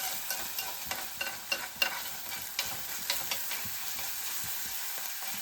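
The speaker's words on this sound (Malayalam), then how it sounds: "നന്നായിട്ടൊന്ന് വഴണ്ടി വരട്ടെ" Ingredients sautéing in a pan at home, a soft continuous sizzle broken by repeated scraping stirs of a spoon at a loose, irregular rhythm, close and fairly quiet with no talking.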